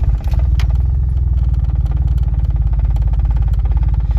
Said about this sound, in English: It's very rough idle.